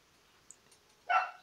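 A single short dog bark close by near the end, after a quiet stretch with a faint click.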